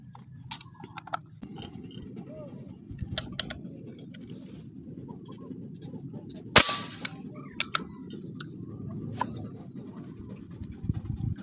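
An air gun fires one sharp, close crack outdoors while someone fishes for tilapia. Fainter ticks and clicks and light bird-like ambience surround it.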